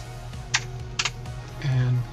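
Keystrokes on a computer keyboard while a name is entered, a few sharp clicks in short clusters over a steady low background hum.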